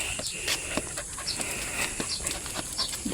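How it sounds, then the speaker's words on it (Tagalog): A pet dog pants in quick, soft breaths on an early morning walk outdoors, the breathing close by and steady with faint whimpers and light background noise throughout. "sinasama ko dito yung aking alagang aso na si Bonso."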